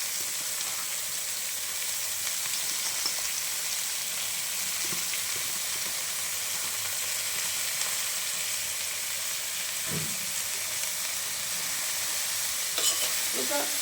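Cabbage stir-fried in a pan with salt gives a steady, close, even sizzle that hisses without a break, with a few faint clinks of stirring and no voices.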